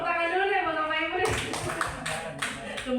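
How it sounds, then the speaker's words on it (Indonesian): Audience applause for a group of teachers at a training session, a burst of clapping starting partway through and continuing densely after an initial stretch of talk. "Tepuk tangan dulu deh buat Bapak Ibu deh"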